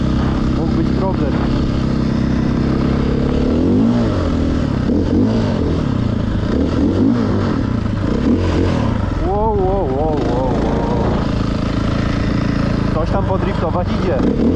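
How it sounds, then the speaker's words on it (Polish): A KTM motorcycle drifts on asphalt, its engine revving loudly and close with rising and falling pitch sweeps and bursts of acceleration, while a rider talks over it. "Podriftować idzie motorem też."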